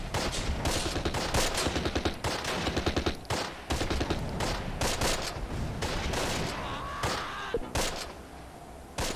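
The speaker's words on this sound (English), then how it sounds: "This heroic guy just has a few rounds left in his machine gun" Machine gun fire in a World War II video game battle at St. Marie du Mont: dense, continuous bursts of rapid gunshots, loud and close, with overlapping fusillades and almost no pauses.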